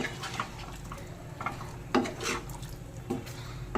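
A spoon scrapes and knocks against a pot of prawn and elephant-foot-yam curry thinned with water, making a few soft, irregular clinks and stirring sounds at close range over a quiet background.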